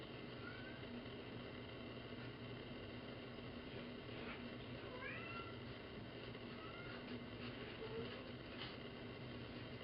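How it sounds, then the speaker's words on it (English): A cat meows faintly several times from behind a door, trying to get into the room, its thin rising cries barely above a steady, loud background hum. "My cat's crying to get in here."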